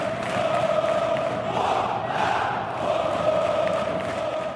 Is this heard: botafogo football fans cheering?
yes